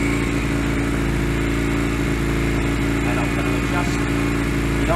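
A Honda Rebel 125 motorcycle engine runs steadily during carburetor adjustment, a continuous close, loud idle drone with a slightly uneven beat that holds for the whole stretch.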